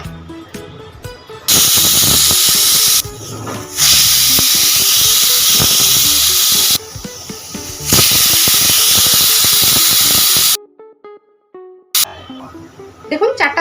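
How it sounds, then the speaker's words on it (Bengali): A pressure cooker holding mutton nihari lets out several long, loud, piercing steam whistles in bursts, with separate whistles split by short gaps, then a stretch of silence and a final brief hiss. "দেখুন 4টা সিটি আমাদের হয়ে গেল।"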